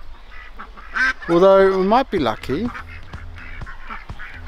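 Ducks quacking in a burst of loud, nasal calls from nearby, heard alongside a person talking.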